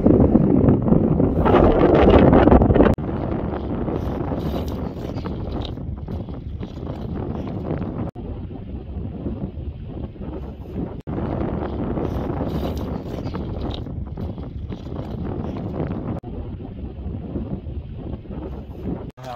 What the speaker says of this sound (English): It's windy and kind of cold